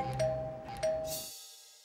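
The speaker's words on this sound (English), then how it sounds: "This is how people literally have to ring the doorbell." A two-tone doorbell chime rings twice in quick succession, clear and close, the second tone fading out into silence.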